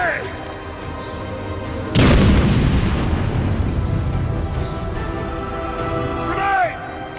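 A grenade blasts in the Batman: Arkham City video game, a sudden loud boom that rolls into a long rumbling decay over a steady game backdrop, with shouting voices around it.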